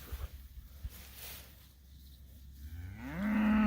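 A cow on a grass-grazing cattle farm lets out a low moo that swells louder toward the end, over faint outdoor background.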